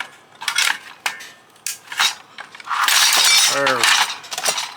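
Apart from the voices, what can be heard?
prying apart an old fax machine with a screwdriver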